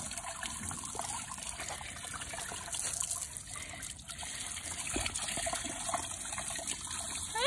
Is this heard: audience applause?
no